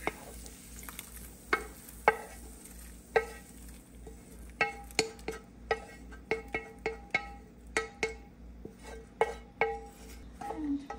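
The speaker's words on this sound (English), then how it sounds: "now I'm adding the fried bacon and the onions to the soup" Fried bacon and onions go into a pot of Polish sour rye soup (żurek) amid repeated sharp clinks and scrapes of a spoon against the pot, with a low steady hum underneath and no talking.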